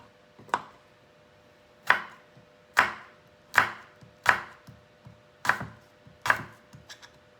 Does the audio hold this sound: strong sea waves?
no